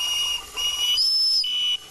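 A model locomotive's high, piercing whistle sounds in several short blasts, loud and close, with a faint hiss beneath.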